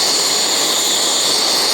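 An MSR WindPro camping stove burner roars steadily at full flame, a loud continuous broadband hiss with no voices over it.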